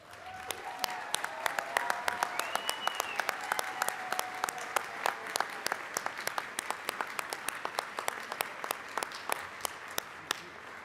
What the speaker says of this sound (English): They're clapping hands and high-fiving.